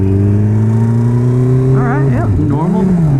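A 300 horsepower turbocharged Suzuki Hayabusa motorcycle idles loudly with a steady deep drone, then the engine note swoops up and down in a brief rev, close and dominant throughout.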